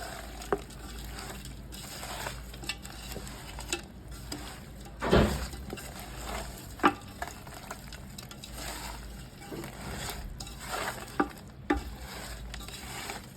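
Chicken biryani with mint and coriander is mixed in a pot, with continuous soft scraping and stirring, a light sizzle underneath and occasional louder knocks of the spoon against the metal, close by.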